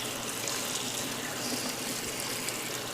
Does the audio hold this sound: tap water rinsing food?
yes